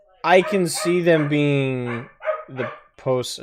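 A pet dog barking and yipping in short bursts during a podcast, close and loud, mixed in with someone talking.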